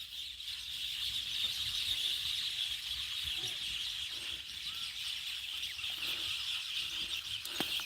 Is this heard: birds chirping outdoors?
yes